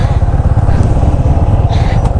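A motorcycle engine pulling in first gear on a rough, sinking mountain road, a loud, close, steady low rumble with slight throttle pulsing throughout.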